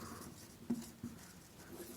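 A pen scratches briefly and softly across a surface while an example sentence is written during an English tense lesson, with a couple of faint strokes in a quiet room.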